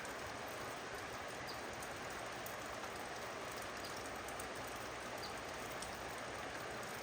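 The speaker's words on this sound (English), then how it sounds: "it is literally the third day of rain" Steady rain falling outdoors on a farm on the third day of wet weather, a soft, continuous even hiss with no voices.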